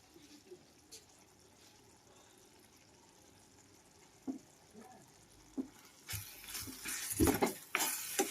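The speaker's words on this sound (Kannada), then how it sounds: "ಈಗ ಸಾರು ಒಗ್ಗರಣೆ ಕೊಡ್ತೇನೆ ಸ್ನೇಹಿತರೆ" Spices for saaru (rasam) tempering in a pan: a low, quiet stretch gives way to a sudden, fairly loud crackling sizzle over the last two seconds, with no talking.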